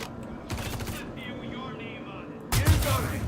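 Bespoke ship cannons fire in a space combat video game, with rapid bursts of gunfire followed by a heavier boom near the end, loud and close.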